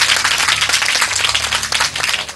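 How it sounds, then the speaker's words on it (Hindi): Applause from a crowd, with the Prime Minister clapping at a children's school event in Pakistan: dense, continuous, fairly loud clapping with no talk. "वज़ीर आज़म ने तालियां बजाई।"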